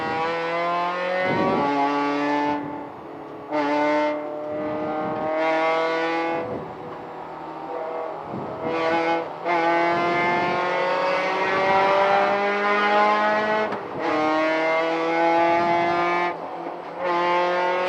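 Race car engine during an amateur endurance race, loud and close, with repeated revving climbs and sharp drops between gear changes, sustained throughout with no talking.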